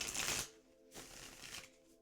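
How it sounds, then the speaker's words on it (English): A deck of tarot cards is shuffled in two soft, papery riffling bursts, quiet and close, with no talking. "last shuffle"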